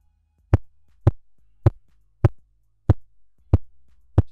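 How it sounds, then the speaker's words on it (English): Seven dull, thumping smacks against a microphone, evenly spaced about half a second apart, each a sharp low thud in otherwise near silence. "This is the noise of me smacking the microphone against me."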